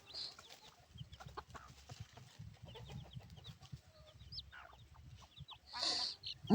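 Chickens cluck softly and intermittently nearby, with a louder squawk near the end, over faint background rustling.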